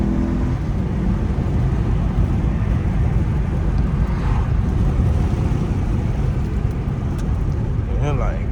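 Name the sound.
Acura TL Type-S 3.2 VTEC engine driving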